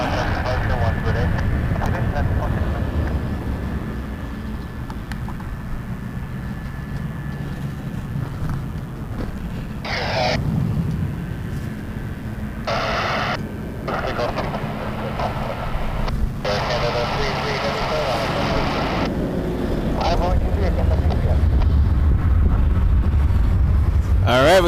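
An Air Canada Boeing 777-200 airliner rumbles at Toronto Pearson airport at night, a continuous broad engine roar heard from a distance that swells near the end, with people talking and radio chatter throughout.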